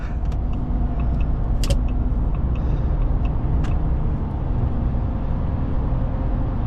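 A 2026 Ram 1500 RHO pickup truck drives along steadily, its engine and road noise forming a constant, fairly loud rumble with no one talking.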